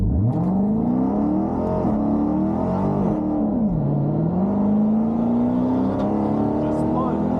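A Dodge Charger Redeye launches at a drag strip with heavy wheelspin, a loud close engine roar rising and wavering in pitch as the tires break loose, sustained throughout.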